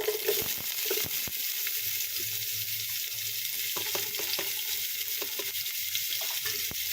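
Small onions sautéing in a pan: a steady, close sizzle of frying with a broad hiss, broken by occasional sharp clicks and taps of a spoon.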